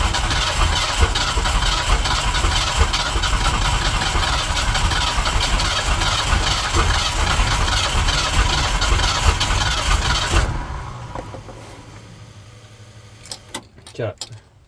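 A turbocharged 351 engine roaring loudly and steadily as the throttle is cracked open, then dropping off sharply to a quieter idle with a few clicks and knocks.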